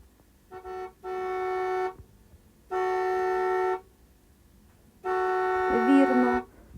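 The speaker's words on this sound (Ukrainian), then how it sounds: "а це сигнал машини" A car horn honks three times: a short toot, then two longer blasts separated by pauses, loud and close.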